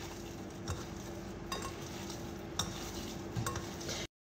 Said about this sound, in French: On vient mélanger le tout.